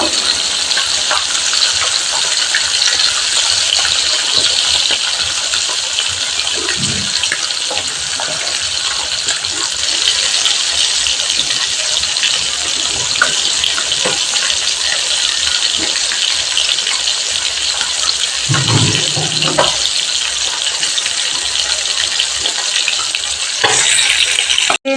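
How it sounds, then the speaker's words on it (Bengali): Bhola fish frying in oil for a Bengali fish curry, giving a loud, dense, steady sizzle that fills the whole stretch, with a few soft clunks from the pan now and then. "মাছগুলো আমি তেলের মধ্যে দিয়ে দিয়েছি ভালো করে ভাজার জন্য"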